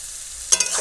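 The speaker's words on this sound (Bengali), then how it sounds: "আর একটু নেড়ে নেব খুন্তি দিয়ে" A metal spatula scrapes and stirs a prawn curry with taro in a pan, giving a few short, close scraping strokes over a quiet sizzle.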